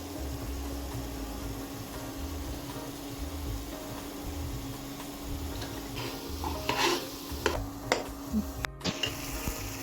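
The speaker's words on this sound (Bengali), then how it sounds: "এবার নাড়িয়ে যখন মশলাটাই তেল তেল উঠবে" Masala frying in oil for silver carp curry with tomato is stirred in a pan, a low steady sizzle with faint scraping and a few clinks of the spoon toward the end.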